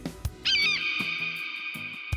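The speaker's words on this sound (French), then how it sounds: "Alors, vous avez trouvé? C'est l'aigle." An eagle's high, piercing cry rings out once as a long sustained screech, accompanied by a few soft low thumps, with no speech.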